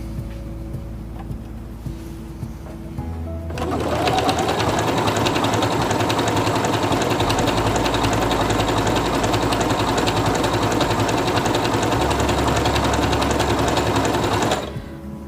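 Singer Quantum Stylist 9960 computerized portable sewing machine stitching steadily at a fast, even rate for about eleven seconds, loud and close, with no talk, preceded and followed by quiet room tone.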